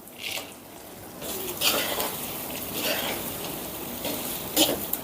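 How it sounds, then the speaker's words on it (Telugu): Bitter gourd pieces tipped into a pan of frying ginger garlic paste, with a steady sizzle, scattered clinks of a utensil against the pan and soft stirring, close and moderately loud. "ఇప్పుడు ఇందులో మనం ముందుగానే కట్ చేసి పెట్టుకున్న ఈ కాకరకాయ ముక్కల్ని కూడా వేసుకుందాం"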